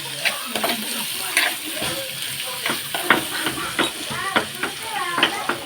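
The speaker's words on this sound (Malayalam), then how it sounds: "ഒരു കാൽ കിലോ സവോള ഇട്ടിട്ടുണ്ട് ഇനി നന്നായിട്ട് വഴറ്റി കൊടുക്കുന്നുണ്ട്" A quarter kilo of onions sautéing in a pan for chicken curry, with a steady sizzle under repeated scraping stirs of a spatula, close and fairly loud.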